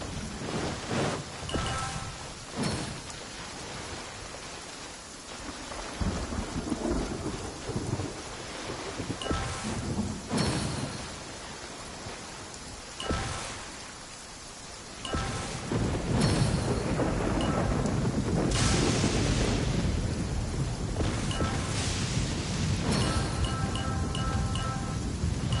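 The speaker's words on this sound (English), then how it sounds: "Please stay indoors until the storm passes." A thunderstorm in the Genshin Impact video game, with steady rain and several rolling thunder claps that swell and fade, the downpour growing heavier and louder toward the end.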